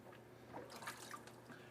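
Water drains from a bathroom sink in a quiet room, a faint gurgling trickle with scattered drips and small glugs over a low steady hum.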